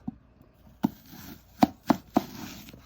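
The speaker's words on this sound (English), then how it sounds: "you're going to slice the apple very carefully" A knife cuts an apple into rings on a board, several sharp chopping thunks spaced apart, up close against a quiet room.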